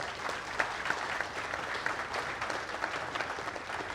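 An audience at a success-stories event in Trinidad claps steadily for Dr. Batson, a dense, even round of applause held at moderate loudness from start to finish with no talking.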